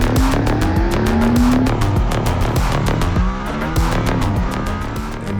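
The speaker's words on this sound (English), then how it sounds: "when the engine starts up, you hear the Formula One engine" A Mercedes-AMG ONE hypercar with a Formula One-derived engine drives hard, its loud high-revving engine howling and shifting pitch over continuous tire squeal and skidding noise, close and sustained throughout.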